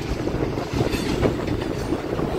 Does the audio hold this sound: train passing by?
yes